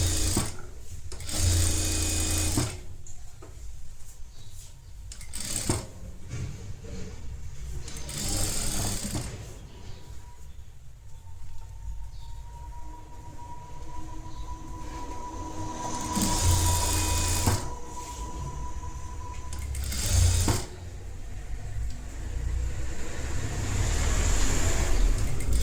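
A sewing machine stitches and overlocks a netted blouse, whirring in close, uneven runs that speed up and ease off, with short louder bursts and brief pauses between.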